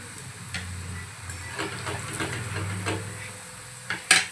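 Red chili powder stirred into fried onions for Kolhapuri misal in a pan, with a steady low sizzle, scraping stirs and a sharp clink of utensil on metal near the end.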